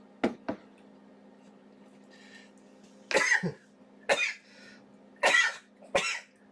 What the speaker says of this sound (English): No, those aren't a cough, it's a sneeze.